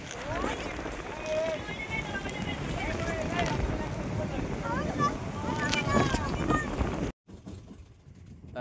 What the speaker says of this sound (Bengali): কেমন হাওয়া হচ্ছে, ঝিরঝিরে বৃষ্টি